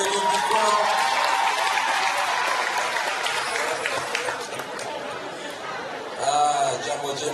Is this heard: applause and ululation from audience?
yes